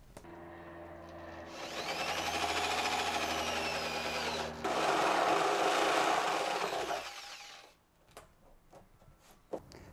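A power tool whirs up and cuts steadily through a plastic rain barrel for several seconds, pitch shifting midway, then winds down, followed by a few scattered knocks and clatters.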